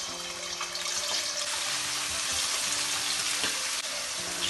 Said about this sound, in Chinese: 锅里再加一点油，稍微多加一点，然后给它改成小火，我们把腌好的排骨下去给它煎一下。